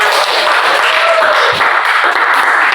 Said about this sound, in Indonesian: kita tepuk tangan dulu untuk kelompok kita semua.